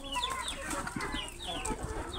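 Chickens cluck and chatter in a continuous busy flock while pecking at cabbage tossed to them like corn, with a few sharper calls over a steady low rumble of background noise.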